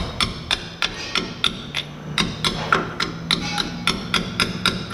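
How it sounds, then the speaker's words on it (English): Light hammer tapping ball joint cups into place on a 2008 Ford F150 lower ball joint job, a steady series of about fifteen sharp metallic taps at a quick even rhythm, close and distinct with no talk. "So I'm going to get a little hammer here, nothing too heavy, and lightly"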